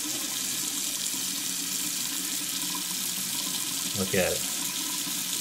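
Water running steadily out of a freshly unclogged sink drain, a continuous close trickle and gurgle throughout, with a voice speaking briefly near the end.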